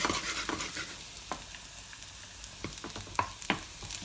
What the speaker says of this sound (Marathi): लसूण चांगले परतवून घ्यायचे.